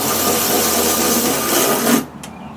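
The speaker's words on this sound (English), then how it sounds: "And the Milwaukee ratchet." A Milwaukee power ratchet runs steadily as it tightens bolts while replacing the auger and drive belts on an Ariens Snow-Tek 24-inch snowblower, a continuous close buzzing whir that cuts off abruptly near the end.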